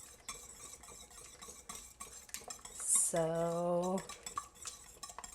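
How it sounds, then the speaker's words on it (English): A whisk stirs sweet and sour sauce in an Instant Pot pot, making light, irregular metallic scraping and clinking. A brief steady tone sounds midway, and a voice speaks very briefly. "So you're just gonna whisk it."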